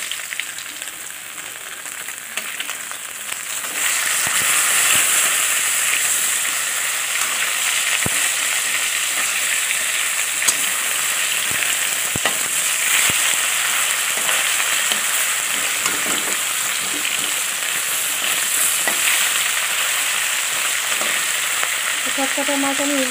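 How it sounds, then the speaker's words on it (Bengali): Fish pieces frying in hot oil in a pan, a steady close sizzle and crackle that runs continuously with occasional stirring clinks, no voices. "আবার যে চারটে মাছ ছিল তো ওগুলো ভেজে নিচ্ছি ভালো করে লাল লাল করে।"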